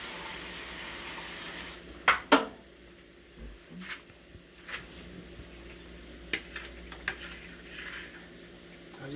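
A spoon scoops cooked rice out of a cooking pot, giving a few quiet, brief scrapes and clinks in two short clusters against a low kitchen background.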